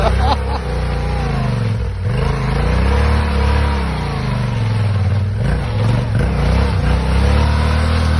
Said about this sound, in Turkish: Ön teker dönmüyor gene gidiyor motor.